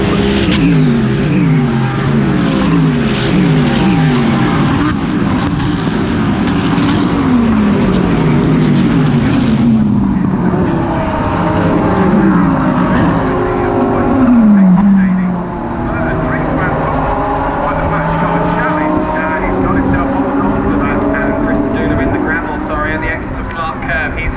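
GT race cars racing wheel to wheel at the Brands Hatch circuit, engines roaring loudly and continuously with rising and falling pitch as cars pass, under steady commentator talk throughout.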